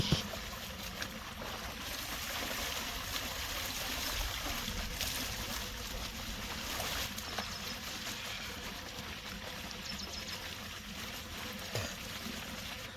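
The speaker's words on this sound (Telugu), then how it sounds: "ప్రకృతిలో మంచిగా ఇక్కడ మనం ఫ్రెష్గా ముఖం కడుక్కుందాం." Water splashing and trickling as a face is washed outdoors in a farm field in a Telangana village, a steady wet wash running throughout the clip with no voices.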